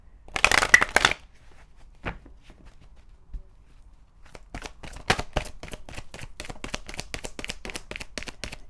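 Playing cards shuffled during a tarot-style reading, with a loud burst of riffling up front, a pause with a few soft taps, then a steady run of crisp, rapid card flicks close to the mic.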